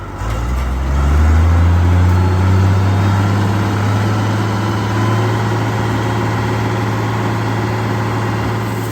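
An IH 856 tractor runs a New Holland 354 grinder, a steady loud diesel drone that rises as the engine revs up and then holds constant with a deep hum.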